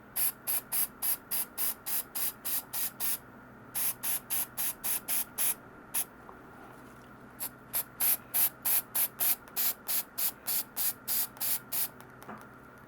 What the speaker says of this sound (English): I'm now going to use my metallic spray.